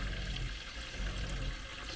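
Water rushes steadily through a campervan's pipes and out of its tap as the system is flushed, a continuous close hiss with no talking.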